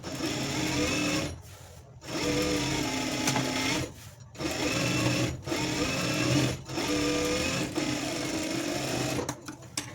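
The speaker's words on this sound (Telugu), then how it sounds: "ఇప్పుడు ఈ చివరన మనము ఒక కుట్టు అనేది వేసేసుకోవాలి" A sewing machine stitches along the lining edge of a blouse in several steady motor bursts with short pauses between them, loud and close, with no talk.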